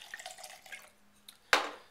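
A 2006 Clos Du Bois Chardonnay poured from a half bottle: faint trickling and dripping, then a sudden louder splash of wine into the glass near the end.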